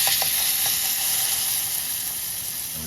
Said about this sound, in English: Now we're going to place burro banana on hot oil.